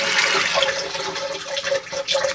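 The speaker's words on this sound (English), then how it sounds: "the water's going to come steaming down through the cistern, through the donut which is in there, into the pan" A toilet cistern flushes, water gushing down through the flush valve into the pan with a turbulent, bubbling rush that surges and dips in waves throughout, close and fairly loud.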